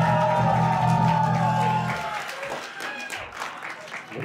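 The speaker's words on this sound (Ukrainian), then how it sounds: "Ваші оплески!" Audience at a rock evening concert applauding a band, with sustained clapping and some cheering that swells loud at first, then thins out; a low musical hum sits under it early on.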